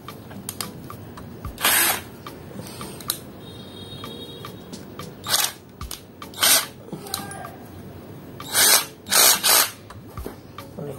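A weak cordless drill with a titanium-coated HSS bit whirs in several short bursts, separated by pauses filled with clicks and handling noises.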